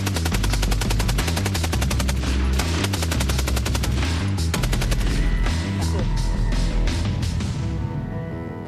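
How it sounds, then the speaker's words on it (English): A Maxim machine gun fires long, continuous bursts of rapid, sharp reports, loud and close, with the fast rhythm easing toward the end. "now I'm going to fire the Maxim."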